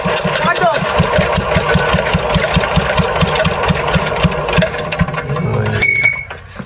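An engine on a Punjab farm cranks over and over in a steady, loud, rhythmic churn that never catches, then cuts off near the end; voices talk over the cranking.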